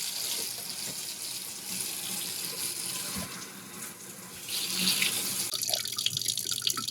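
Water running from a newly installed house tap for the first time after two years: a steady close splashing stream that grows fuller and louder partway through, with no talk.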